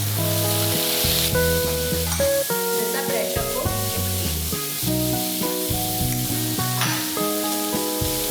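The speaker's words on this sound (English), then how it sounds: "Saute it for 2 to 3 minutes. Then we will add half cup chickpeas." Chickpeas and boiled baby corn sizzle as they are sautéed in a pan, giving a steady hiss and frying crackle under continuous background music.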